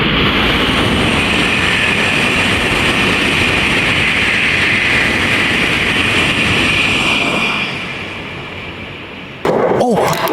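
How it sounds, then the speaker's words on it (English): The Sapphire Odoriko premium express train rushes past a seaside station with a loud, steady roar that fades gradually near the end, followed by a brief sharp clunk. "Oh, that's the Sapphire Odoriko."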